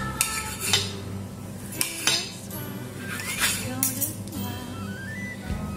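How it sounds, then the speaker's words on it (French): Cutlery clinks and scrapes against a plate while small slices of sausage are cut, sharp intermittent ticks over a low steady background hum, close and moderately quiet. "Alors, des petites tranches de saucisse."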